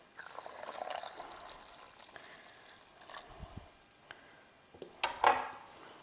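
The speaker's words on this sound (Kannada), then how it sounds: "ಒಳ್ಳೆ ಕ್ಲೀನಾಗಿರೋ ನೀರು ಹಾಕ್ಕೋಬೇಕು." Clean water is poured into coarsely ground coconut for homemade coconut oil, giving a soft liquid trickle at first, then a few clinks of a vessel and a louder splash and clatter near the end.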